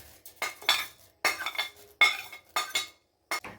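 A spoon stirs fried vermicelli into boiling milk for sheer khurma, scraping and clinking against the pot in several separate bursts with brief silent gaps between them. The sounds are close and fairly loud.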